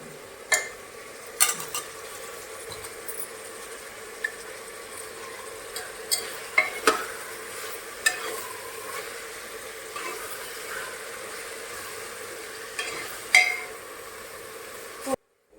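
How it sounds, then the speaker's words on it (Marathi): Tomatoes sautéed on full gas in a pan: a soft, steady sizzle runs underneath while a spoon or spatula stirs and scrapes, giving scattered sharp clicks and clatters throughout. "बघा आता ह्याला छान फुल्लं गॅसवर असं आपण परतून घ्यायचं म्हणजे टोमॅटो चांगला शिजला जाईल"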